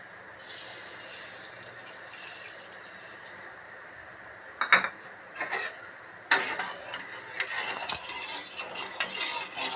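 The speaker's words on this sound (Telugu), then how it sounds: "మన పాకం దగ్గర అయ్యేంత వరకు ఇలా కలుపుకుంటూ ఉండాలి." A spoon scrapes and knocks against a metal pot of sugar syrup in irregular bursts, stirring close by over a faint background hiss.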